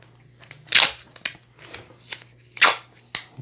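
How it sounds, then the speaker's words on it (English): Scissors snipping through a small wind turbine model part: several sharp crunching cuts with brief pauses between them, close and moderately loud over a low steady hum, no speech. "Let's cut a piece off."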